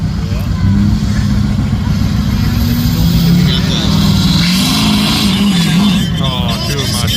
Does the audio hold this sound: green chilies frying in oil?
no